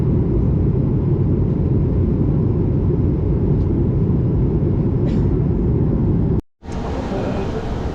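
An airliner descends to land in Madagascar, a loud, steady low cabin rumble that drops out abruptly for a moment near the end before resuming.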